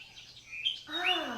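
A bird chirps and sings in a few quick, bright notes, close and fairly clear, with no one talking over it.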